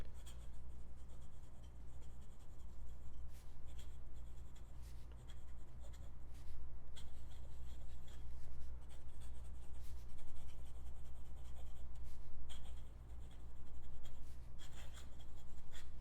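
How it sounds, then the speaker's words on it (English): A Kakimori pen nib scratches steadily across paper in continuous close strokes, with brief pauses between words and no talking. "Now let's do some live writing. I'm using my ink miser here, and we can start with the Kakimori pen nib."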